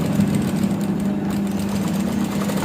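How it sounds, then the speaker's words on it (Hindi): A tailor's sewing machine stitches fabric with a steady, close motor hum and a fast rattling drone that runs evenly throughout, with no talking. "तो ऐसे हमने अपनी सिलाई मशीन से सिलाई लगानी है"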